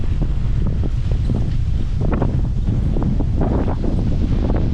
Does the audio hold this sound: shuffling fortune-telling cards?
no